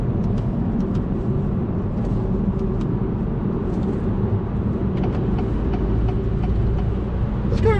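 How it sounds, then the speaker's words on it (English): Steady road and tire noise inside a 2021 Acura TLX cruising at speed, a low constant rumble with the engine barely audible beneath it and no talking. "I hear more road noise than I do the motor"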